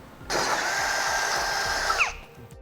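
A power drill bores a 13/32-inch hole in a base plate mount on a 2010 Honda CR-V, making one loud, close, steady whine for about two seconds that drops in pitch as it winds down. No one speaks.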